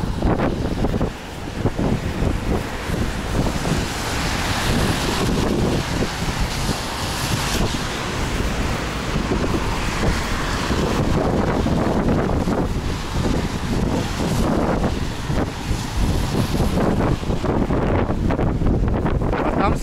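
Strong wind buffets the microphone continuously on a stormy seaside walk in Alanya, a loud rumbling roar with gusty surges throughout and possible surf underneath.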